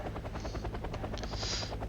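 Helicopter in the WarGame: AirLand Battle video game, a steady rhythmic rotor thump with a rising high whine, close and continuous throughout without any talk.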